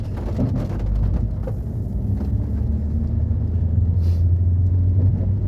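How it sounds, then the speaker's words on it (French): Heavy rain drums on the bodywork of a car during a stormy spell, a dense continuous patter over a deep low rumble heard from inside, loud and unbroken. "il pleut bien"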